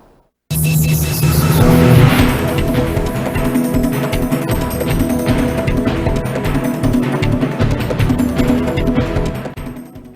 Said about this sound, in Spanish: El sonido del motor, del pedido del vecino.